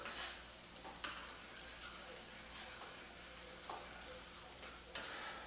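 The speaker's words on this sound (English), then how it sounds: "Now I'm going to add that half a stick of butter. Just like that. Give that a quick stir." Half a stick of butter melts into grits in a pot over low heat, a faint soft hiss with light scraping strokes from a quick stir, quiet and steady throughout.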